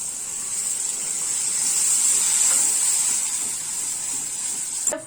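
Milk comes to a boil in a pan of paneer masala, giving off a steady, even hiss and gentle bubbling that fills the whole stretch, ending with a brief clink near the close.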